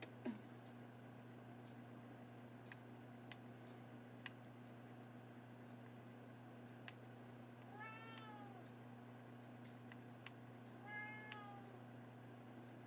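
A house cat meowing for food lets out two drawn-out meows several seconds apart over a quiet, humming room with faint ticks, fairly soft and close.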